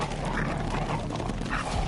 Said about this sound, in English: It's a zombie dog.